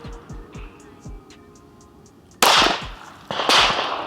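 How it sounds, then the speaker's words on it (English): Two loud, sharp gunshots from a firearm on an outdoor shooting range, each a sudden crack with a brief echoing tail about a second apart, following quieter ticking sounds. "Go ahead and fire."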